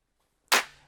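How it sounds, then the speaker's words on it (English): A single sharp clap sample from an FL Studio trap-soul beat pattern, bright and snappy with a short, decaying tail, playing alone after a moment of near silence. "the next pattern was a clap, and it looks like this and it sounds like this."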